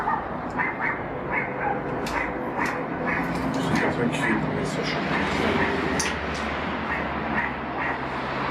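Small dog yapping and whimpering in a house, short sharp barks scattered through steady background noise and talk, moderately near.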